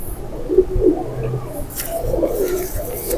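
Golden pigeon, a light thin-boned bird, cooing nearby in a few soft low repeated phrases over a steady background hum.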